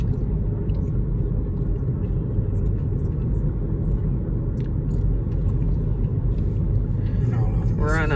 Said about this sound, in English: We're on a 2-hour drive. We just started and the highway is packed.